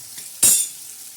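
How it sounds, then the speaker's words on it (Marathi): A spatula scrapes once through stuffed brinjal with potato and tomato in a pan, a single sharp, close stirring sweep over a quiet sizzle. "आता हे वांगे हलवून घेणार आहोत"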